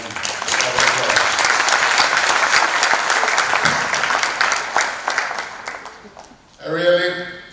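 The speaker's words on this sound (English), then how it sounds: "Give yourselves a big round of applause." Students, parents and families at an awards ceremony give a loud, sustained round of applause that fades after about six seconds, followed by a brief burst of a voice.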